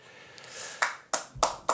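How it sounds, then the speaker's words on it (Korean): Audience clapping at a Buddhist dharma talk in a temple hall, a few sharp separate claps at an uneven pace, faint and brief. "박수를 한번 쳐드립시다."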